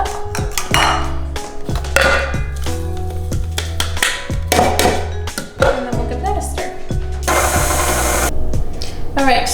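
An electric mixer churns thick, sticky gluten-free hazelnut cookie dough with baking powder, salt and cinnamon, a loud steady rattling whir with clunky knocks from the bowl running throughout.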